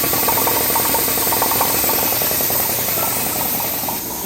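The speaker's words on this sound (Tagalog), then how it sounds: "the motor will start to turn on and the water will start to flow" A motor in a water heat-exchanger instrumentation and control rig hums steadily with a mechanical whir and rattle, fairly loud and close, easing slightly at the end with no talking.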